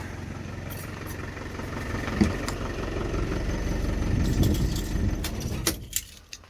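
An old engine idles rattly and steady just after a cold start, a continuous near rumble with clattering edges that cuts off sharply near the end.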